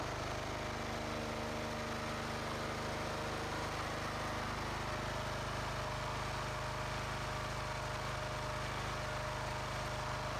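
A portable gasoline or diesel engine drives a hydraulic pump power pack fitted with a pressure gauge and a Marzocchi pump, running steadily throughout as a continuous close engine drone with an even, unbroken tone, with no voices.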